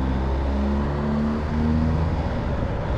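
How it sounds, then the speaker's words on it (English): A 2022 BMW R1250GS Adventure Rallye motorcycle with a 1254 cc engine accelerating through traffic, its engine drone rising steadily in pitch beneath constant road and wind roar, loud and close throughout. "easy to accelerate and get up to speed on this GS"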